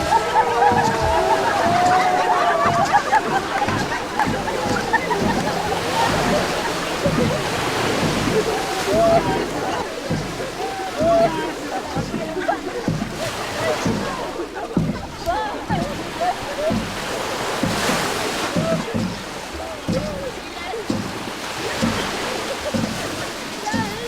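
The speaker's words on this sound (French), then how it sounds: "Les éclaboussures et les premiers rires marquent leur retour à une vie normale" People in mourning bathe in the sea for purification, their splashing and sloshing mixing with the wash of waves across a long, steady stretch. Voices and laughter rise faintly in the background.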